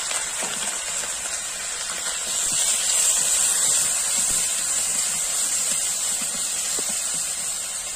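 Ginger, cumin and garlic pastes sizzling in hot oil in a pan, a steady bright hiss and crackle lasting throughout, close and fairly loud with no talk over it.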